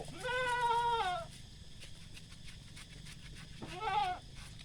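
Goats on a goat farm bleating, one long wavering call near and clear, then a second shorter bleat a few seconds later, over faint background noise without talk.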